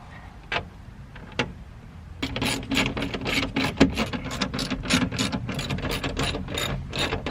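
Old bolts on a Mazda3 speaker mount being tightened with a ratchet, giving a steady run of quick close clicks that grows denser and louder after a few isolated ticks at the start.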